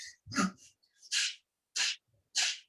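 Forceful, sneeze-like exhalations in a breathing technique demonstration, with one or two softer breaths followed by three sharp, loud bursts of breath spaced at a steady rhythm, close and alone.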